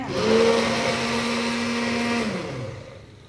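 An electric blender whirs at a steady pitch for about two seconds while making homemade mayonnaise, then winds down and fades.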